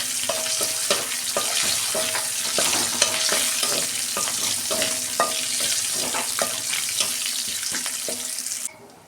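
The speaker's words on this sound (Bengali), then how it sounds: "এই যে একটা তেজপাতা আর একটা শুকনো লঙ্কা দিচ্ছি। গোটা জিরে দিচ্ছি অল্প।" Bay leaf, a dried red chili and whole cumin sizzling in hot oil in a kadai, a dense crackling hiss with rhythmic spoon taps against the pan, cutting off abruptly at the end.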